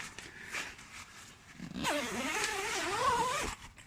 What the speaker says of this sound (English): One-handed zip up, keep them bugs out